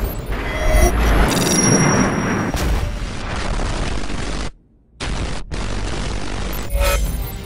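Heavy explosions and booming blasts with gunfire in the Battlefield 3 video game, dense and continuous with a brief near-silent gap, then more blasts.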